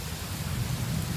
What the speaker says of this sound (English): Well, I'm glad it's raining.